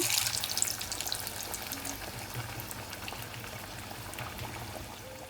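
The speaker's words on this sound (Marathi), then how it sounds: "तेल भरपूरच तापलंय. मोठं पसरट भांडं घेतलंय, त्यामुळे मी सगळेच एकदम सोडून घेते." Sago (sabudana) vadas fry together in plenty of hot oil in a wide, shallow pan over low heat. The bubbling sizzle is loudest at the start and then settles into a steady, close crackle, with no talking.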